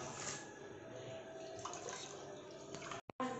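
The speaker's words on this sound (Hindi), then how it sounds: "तो इसमें और भी मैं पानी डाल रहा हूँ" Water poured into a semolina batter for rava uttapam gives a steady, fairly quiet liquid trickle and splash that runs on and stops abruptly near the end.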